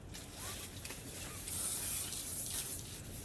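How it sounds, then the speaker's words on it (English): A can of WD-40 lubricant sprays in a steady hiss for a few seconds, growing stronger partway through, close by with no talking. "Alright, now we'll take some WD-40."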